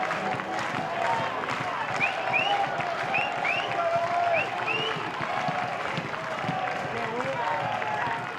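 Baseball crowd at a Louisville stadium during an NCAA super regional game against Miami, a steady roar of cheering and clapping with whistles running throughout, heard at a distance and filling the whole stretch.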